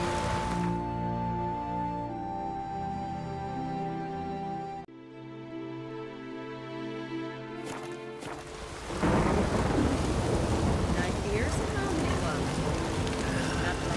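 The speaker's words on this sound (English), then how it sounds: "Raining fucking buckets." In The Witcher 3: Wild Hunt, a low sustained tone fades into a sudden crash of thunder, then heavy rain pours down loudly and steadily.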